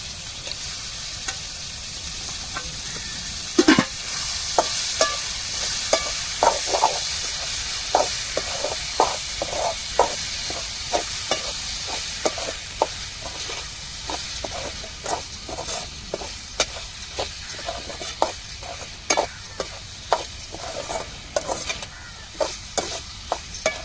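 Prawns sizzle steadily in a hot pan with onion and chilli, with repeated scraping stirs and clinks of a utensil, close by and fairly quiet, no talking.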